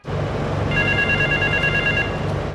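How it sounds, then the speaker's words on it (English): A payphone's bell-like ring in the video game Grand Theft Auto III sounds steadily for under two seconds over a low rumbling background hum. "you'll hear a nearby payphone ringing"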